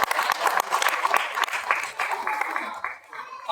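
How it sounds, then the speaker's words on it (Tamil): Loud, sustained audience applause greets a speaker at a Tamil debate event, a dense wash of clapping lasting several seconds and fading slightly at the end. "பலத்த கரகோஷம்"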